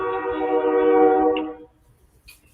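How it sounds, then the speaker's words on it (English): A train horn sounds from a distance as a train approaches near a home garage, one sustained blast of about a second and a half that cuts off into quiet background. "Somebody's got a train coming."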